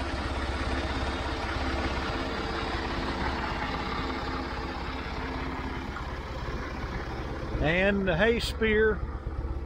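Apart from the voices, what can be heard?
Massey Ferguson tractor engine idling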